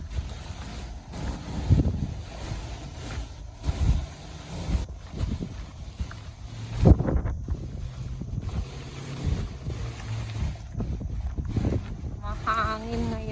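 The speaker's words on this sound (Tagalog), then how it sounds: "Mahangin ngayon." Wind buffets the microphone in low, rumbling gusts throughout while fishing at Lockport, Manitoba, with occasional voices and a boat-like hum underneath.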